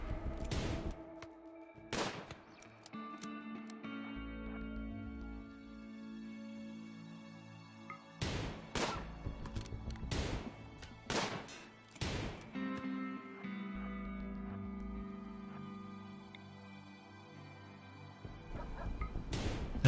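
Gunfire in RimWorld cracks out in sharp, isolated shots, about six loud reports spaced irregularly over a quiet background of low game tones.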